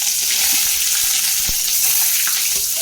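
Loud, continuous sizzling of onions and a little coriander frying in very hot oil for amaranth-leaf curry, with occasional soft pops and a utensil tap, no voices.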